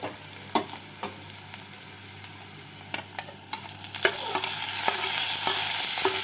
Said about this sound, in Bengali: পেঁয়াজের সাথে টমেটোটাকে ভেজে নিয়েছি